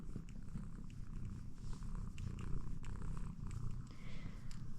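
A cat purrs close by in a steady, low rumbling rhythm, soft but continuous with a few small rustles.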